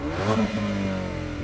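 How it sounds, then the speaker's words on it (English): A Mercedes-AMG A35 engine revs up briefly at a drag race and holds a steady growl, fairly close, with no voices. "Go on, let's hear that Mercedes go."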